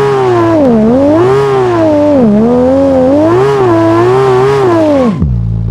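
A BMW car revving hard on a muddy 4x4 track, its engine pitch rising and falling in loud repeated surges, then cutting off abruptly near the end.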